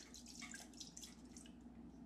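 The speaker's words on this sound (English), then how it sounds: "You'll hear the water in there." Water sloshing inside a cracked carburetor float from a 1941 John Deere H tractor, a faint, steady, drippy liquid movement lasting about two seconds with no talking.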